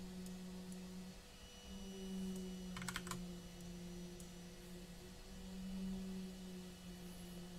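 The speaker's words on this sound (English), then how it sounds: "Typing fast is one of the things that I can do." Quick bursts of typing on a computer keyboard, with a short cluster of fast keystrokes standing out over a steady electrical hum in a quiet room.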